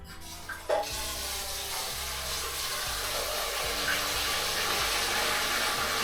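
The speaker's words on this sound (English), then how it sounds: "there is something wrong with my gas stove, so it's making a lot of noise" A faulty gas stove roars with a steady, loud hiss and rumble while water heats on it for canning jars in an off-grid kitchen, a low pulsing hum running underneath throughout.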